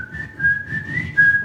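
Someone whistles a tune, a clear single melodic line with a few held notes and small pitch slides, alone and close.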